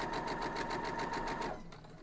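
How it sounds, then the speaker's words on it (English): A sewing machine stitches quilt block pieces in a fast even rhythm of pulses with a whining motor tone, close and steady, then slows and stops near the end. "I'm just flipping them over and bringing them to the sewing machine."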